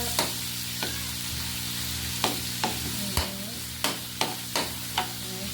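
Garlic sizzles in hot pork fat in a pan for pork adobo with potatoes, a steady crackling fry broken by about eight sharp, evenly spaced spatula strikes against the pan.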